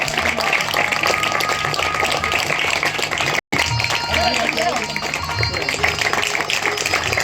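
An audience at a village gathering applauds steadily, a dense wash of clapping that runs throughout with a brief dropout midway, while a voice speaks over it.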